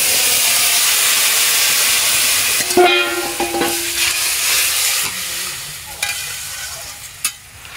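Boiled taro water poured into a pan of lightly fried spice paste in a Bengali kochu curry, starting as a steady loud sizzle, then hissing, bubbling and stirring clatter with a few sharp clinks, no voices.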